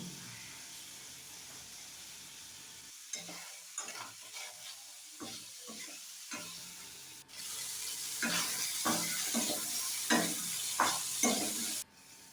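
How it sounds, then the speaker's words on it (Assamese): Broiler chicken pieces fry in oil on a low flame, giving a soft, steady sizzle that grows louder in the second half, broken by repeated scraping stirs of a spoon in the pan. "অলপ সময় ভজাৰ পিছত দেখিছে নহয়, ব্ৰইলাৰ মাংসৰ পৰা তেল ওলাই গৈছে ধুনীয়াকৈ।"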